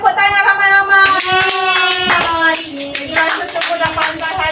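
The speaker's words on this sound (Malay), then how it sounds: "Tepuk tangan ramai-ramai." Children in a Year 3 classroom clap their hands together in a dense, steady patter that runs for several seconds, while a sung or chanted melody with a sustained tone plays loudly over the clapping.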